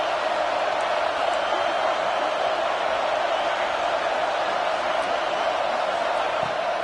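Steady, loud roar of a stadium crowd at a football game, a dense wash of noise holding constant throughout with no one talking over it.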